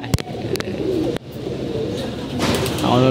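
Pigeons just let out for the morning coo close by in a steady, throaty stream, broken by a few sharp flaps or knocks near the start and middle.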